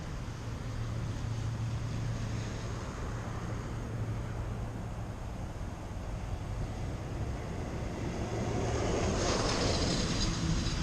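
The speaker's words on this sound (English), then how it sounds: "Getting a little headwind." Headwind buffets a camera microphone in a steady, loud broadband rumble, swelling stronger toward the end with no voices.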